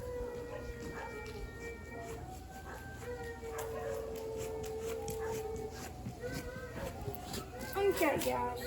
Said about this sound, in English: If y'all hear the howling, that's the bird dogs.